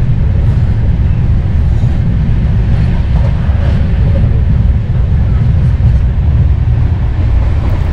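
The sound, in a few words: moving train during a journey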